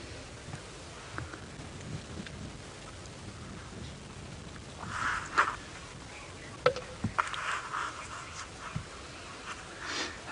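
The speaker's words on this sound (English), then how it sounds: "And Chris Applegate, you've heard them making that very strange noise, and you want to know if wild dogs bark" African wild dogs on a safari reserve give odd, faint whimpering and panting-like calls in short bursts over steady outdoor background noise, some distance away.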